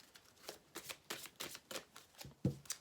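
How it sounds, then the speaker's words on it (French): Tarot cards being handled and drawn from a deck, a series of quiet papery flicks and slides in a soft rhythm, ending in one slightly sharper snap. "maintenant, on va prendre une carte"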